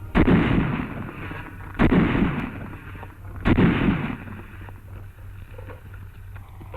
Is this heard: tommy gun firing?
yes